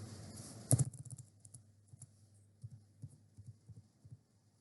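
Typing on a computer keyboard, a quick burst of clicks followed by sparse soft keystrokes at an uneven pace, faint and close over a low background hum, with no talk.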